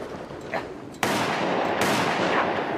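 A shotgun fired at cormorants, one barrel then the other: a sharp loud blast at one second followed by a sustained roar, a second burst about a second later, with a faint noisy background before the first shot.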